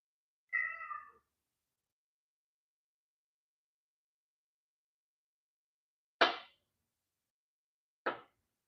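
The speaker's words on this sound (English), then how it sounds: "You guys hear the cat?" A house cat gives a single short, clear meow close by at the start in a quiet kitchen during meal prep, followed after a long silence by two sharp, isolated knocks.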